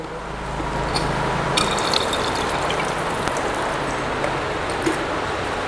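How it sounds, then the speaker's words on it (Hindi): Steady loud rush of water from a soda bottling plant's washer rinsing bottles, with faint mechanical clinks and ticks from the machinery throughout. "आप देख सकते हो किस तरह से ये बॉटल वॉश होती है"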